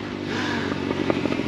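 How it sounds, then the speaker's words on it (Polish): A small motorbike drives past on a rural road in Ukraine, its engine a loud, close, continuous drone with some rattling and clatter, filling the whole moment without any talk. "Motorek jedzie, nic nie usłyszycie, co gadam."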